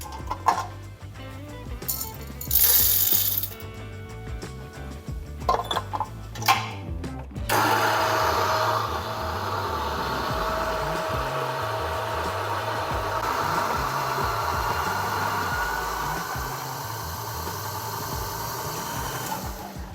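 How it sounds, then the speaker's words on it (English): A Niche Duo coffee grinder grinds coffee beans in a home espresso setup. A loud, whining motor buzz runs for several seconds, then gives way to a steadier, hissing grind that continues to the end. "So let's grind this and see what kind of retention we get from it."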